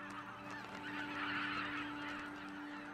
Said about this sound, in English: the snow geese prepare to leave